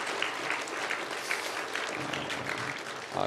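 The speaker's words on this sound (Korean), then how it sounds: "박수 한번 보내드립니다" A church congregation applauds its organ and piano accompanists, cellist and violinist: steady, dense clapping from a full room that holds evenly throughout with no voices over it.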